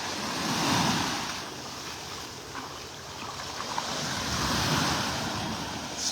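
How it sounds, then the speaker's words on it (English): Ocean waves break and wash onto a beach in North Naples, Florida, a continuous surging roar that swells and recedes, with wind buffeting the microphone and no voices. "Listening to the waves and just standing here where they're breaking"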